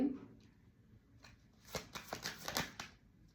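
Tarot cards are shuffled close by in a quick flurry of soft riffling flutters after a quiet moment, with no voices.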